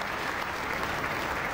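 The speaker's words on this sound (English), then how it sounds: "the crowd acknowledging another 3 strikes in a row from Ong" Steady, dense applause from a crowd fills the hall at a World Tenpin Masters bowling match after a player rolls three strikes in a row, continuous and full throughout with no voices standing out.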